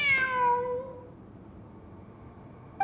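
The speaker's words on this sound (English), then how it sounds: "Wait, there it is! The cat!" A single clear cat meow in Genshin Impact, a bright rising-falling cry near the start that trails off into quiet game ambience, with a brief soft click at the end.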